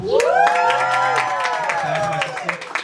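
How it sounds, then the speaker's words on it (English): Stand-up comedy audience in El Paso applauding and cheering, with sustained clapping beneath a loud whooping cheer that rises and holds, amid crowd noise. "I want to get a round of applause for my sister."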